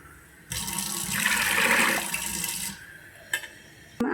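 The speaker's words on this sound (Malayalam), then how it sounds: "വെള്ളം കൂടി ചേർത്ത് കൊടുക്കാം." Water gushes from a vessel into a jar of salted mango pieces in one loud, close pour lasting about two seconds, followed by a couple of faint clinks.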